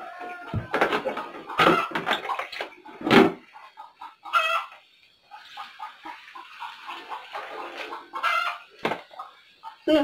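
Chickens cluck and squawk in scattered, irregular bursts, fairly close, with brief quiet gaps between calls.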